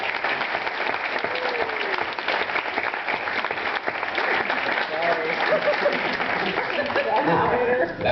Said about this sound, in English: would you give a round of applause to everyone who's put